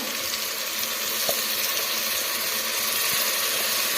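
Moong dal and raw rice fry in a pan with a steady, dense sizzle that runs evenly throughout, close and moderately loud, with a couple of faint clicks of a utensil against the pan.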